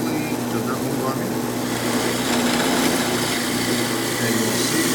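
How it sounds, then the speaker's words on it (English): A power drill bores a hole in a steady, continuous whir that holds at an even level from start to finish, with a constant mechanical hum underneath. "And I'm going to start drilling."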